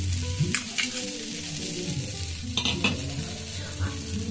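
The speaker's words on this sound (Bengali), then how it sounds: "দেখুন আমি উপর থেকে এরকম ভাবে একটু করে তেল দিয়ে দিলাম।" Attu batter fries on a hot pan as oil is drizzled over it, a steady close sizzle with a few soft crackles and faint utensil touches.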